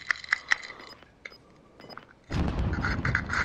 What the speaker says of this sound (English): I'm just gonna be testing this fucking sniper rifle.